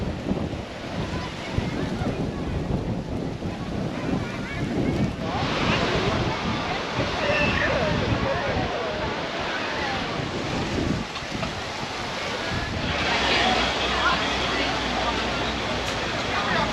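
Strong wind gusts across the microphone at Yeppoon Lagoon in Australia in rough weather, a loud continuous roar with rising and falling surges that may mix with surf, lasting throughout.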